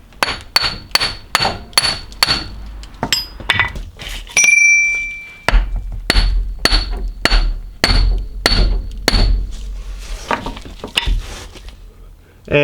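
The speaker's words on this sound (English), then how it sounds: "Now we can grab our mallet and give it a few whacks." Mallet blows drive a CV axle into the knuckle of a Lexus LX470 / 100 Series Land Cruiser: about a dozen loud, ringing metallic whacks in a steady rhythm with short pauses.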